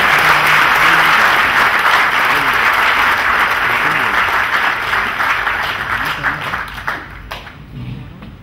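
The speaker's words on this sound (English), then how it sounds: "welcome Anupam Kher with a loud applause." Loud, dense audience applause welcomes the actor Anupam Kher to the stage for an inspirational talk. It holds steady for several seconds, then thins into scattered claps and fades near the end.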